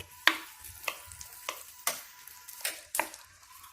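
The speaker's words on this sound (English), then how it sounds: "So here I've got my onions, and they're gonna just kind of slow cook." Onions slow cooking in a pan over a steak dinner cook, with a quiet sizzle broken by several sharp scraping stirs and clacks of a utensil at irregular intervals, no talk.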